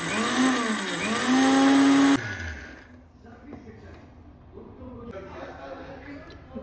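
A kitchen grinder whirs loudly, pulverising food into powder, its motor pitch sliding up and down before cutting off abruptly; afterwards quiet clattering and faint room sounds follow.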